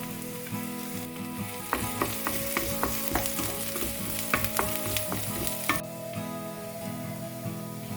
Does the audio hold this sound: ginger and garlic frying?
yes